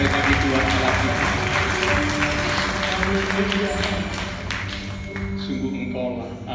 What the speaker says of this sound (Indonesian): Mari kita berikan tepuk tangan sorak-sorai bagi Tuhan Allah kita.